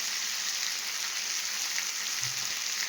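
A steady, close hiss of frying in a pan with green chilli paste, a continuous bright sizzle with no pauses and no voices.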